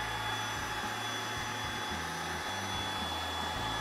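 A MOOSOO K23 Pro 9-in-1 cordless stick vacuum cleaner runs steadily up close, a continuous motor whine and airflow hiss with low humming shifts as it moves, no voices over it.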